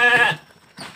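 A goat, one of the pregnant breeding does on a farm being fed fermented feed made from waste, gives one loud, close bleat followed by a shorter, fainter bleat.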